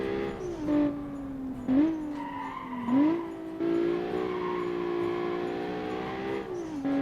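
A car in BeamNG brakes hard and spins out, its engine droning and rising and falling in pitch while tires squeal repeatedly, loud and close throughout.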